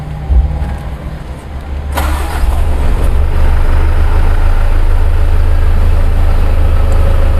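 A 2022 Mitsubishi Fuso Canter Euro 4 truck cranks briefly and its diesel engine catches around two seconds in, then settles into a loud, close, steady idle rumble.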